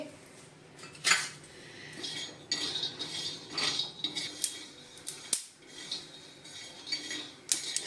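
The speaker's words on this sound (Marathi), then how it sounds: "तवा गरम झालाय थोडे मी शेंगदाणे भाजून घेते" Peanuts tossed on a hot griddle, with scraping and clinking of a metal utensil against the pan in an uneven rhythm, close and fairly loud, no talking.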